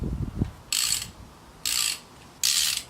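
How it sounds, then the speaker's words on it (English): Three distinct bursts of rapid ratchet clicking from a Silverline torque wrench working on the cylinder head of a Mk4 Golf engine under rebuild, close and crisp, with a faint knock before the first. "We're using a Silverline torque wrench."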